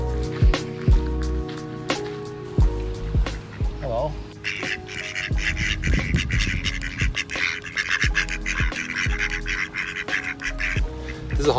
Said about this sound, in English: There's a whole bunch of dudes, by the way, all male ducks